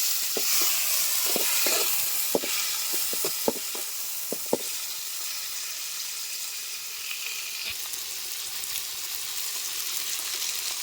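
Tomatoes dropped into a hot pan of mustard seeds and onions for an eggplant curry, with a steady close sizzle and a few sharp crackles and pops early on, settling into an even hiss.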